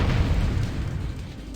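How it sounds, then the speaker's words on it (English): Explosions rumble around a train in the video game Grandia, a continuous dense, low-heavy roar that stays loud throughout with no clear separate blasts. "a couple of explosions going on around the general area"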